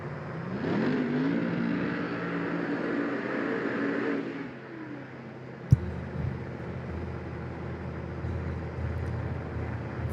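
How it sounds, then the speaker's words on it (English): A 1969 Z28 Camaro drag car with a 521 cubic inch Hemi, seen at a dragway during Funny Car qualifying: loud engine roar holds for about four seconds and then drops to a lower rumble, broken by one sharp crack. "the 1969 Z28 Camaro out of Mississippi, the Ronnie's Hot Rods Gambler with Casey Giesland aboard."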